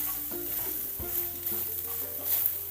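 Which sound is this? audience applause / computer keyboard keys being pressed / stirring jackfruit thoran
stirring jackfruit thoran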